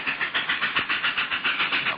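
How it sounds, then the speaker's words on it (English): An authentic wood-burning steam locomotive runs at a western theme park, its rhythmic chuffing pulsing in a steady, even beat, moderately loud with no voices. "our train is an authentic wood-burning, steam-powered iron horse"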